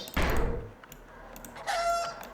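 Chickens clucking in the Roblox video game, a loud burst at the start and a shorter squawk later, with quieter rustle between.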